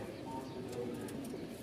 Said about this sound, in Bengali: আর কবুতর একদম সুস্থ আছে আলহামদুলিল্লাহ